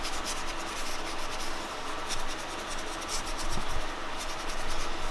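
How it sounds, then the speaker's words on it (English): A dry brush scratches and rubs across a journal page, a continuous close papery scrubbing with faint rhythmic strokes, quiet and alone with no talk. "I started playing with dry brush like this where it's not wet"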